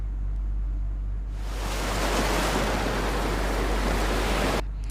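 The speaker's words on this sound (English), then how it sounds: "You just need to choose the greatest underwater sounds effect for your video." A CapCut underwater sound effect begins after about a second of low hum, then a dense, muffled watery rush fills the space at an even level until it cuts off abruptly near the end.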